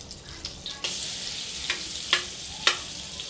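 Butter sizzles in hot oil in a pan for white sauce pasta, with a steady hiss and a few sharp stirring clicks and spatters close by.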